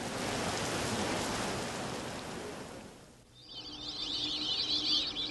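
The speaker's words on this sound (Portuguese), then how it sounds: "A chuva tarda, mas chega." Steady rain hiss falls broad and close for about three seconds, then dips nearly silent before a higher, brighter rushing patter with twittering tones returns, continuous and fairly loud with no voices.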